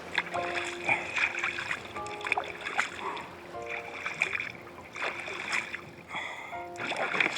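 Boat paddling through river water on a coastal journey around Madagascar: repeated splashing paddle strokes in a steady rhythm, close by, with a faint voice now and then.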